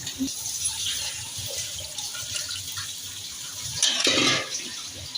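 Water poured into a cooking pan while making a home-cooked dish, a steady broadband splash running throughout and swelling louder near the end, with faint speech in the background.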